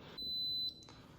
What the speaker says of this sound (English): our rice just finished cooking, just started beeping